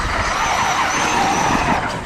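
A Traxxas Super XRT RC truck speeds along a track, its electric motor whining steadily at high pitch with some tire scrub, loud and continuous with no talk.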